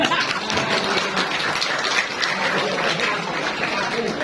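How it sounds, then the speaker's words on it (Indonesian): An audience at a regional village-facilitator meeting applauds in a steady, dense patter of clapping that lasts for a few seconds without pause. "Ternyata tepuk tangannya ya pelit."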